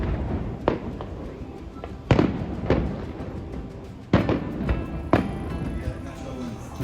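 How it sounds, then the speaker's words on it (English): Fireworks burst over Meads Bay, Anguilla, at night: about five distant booms at irregular intervals, each followed by a short crackle, with a background murmur between them. "we heard there were fireworks along Meads Bay"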